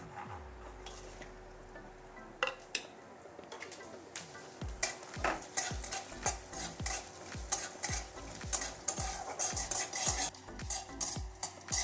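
Cashews, ginger, cumin, coriander, dried chillies, bay leaf, cinnamon, cloves and cardamom fry in a pan, a steady close sizzle broken by repeated scraping stirs and clinks of a utensil against the pan.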